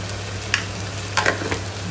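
Ginger paste sizzles in a hot pan for mutton paya curry, a soft steady fry under a low hum, broken by a few short stirring scrapes.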